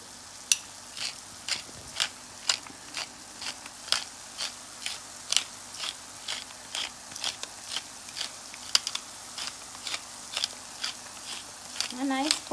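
Soya chunk chowmein being stirred with Chinese sauce and black pepper, a utensil scraping and clicking against the pan in a steady rhythm of short, crisp strokes, close and fairly loud with no talk.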